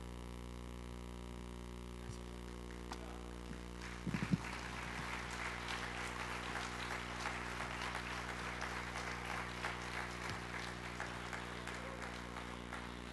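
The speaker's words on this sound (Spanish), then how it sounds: "Un aplauso." An audience at a church conference breaks into applause after a few seconds, a steady, moderately distant wash of clapping over a constant electrical hum.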